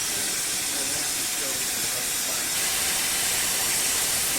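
A steam locomotive taking on water gives off a loud, continuous hiss of escaping steam that stays even throughout, with faint voices underneath.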